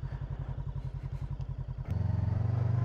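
Motorcycle ridden over a rough rural track, a close engine thumping in a regular pulsing beat that shifts to a higher, denser drone as it picks up revs, with no talk.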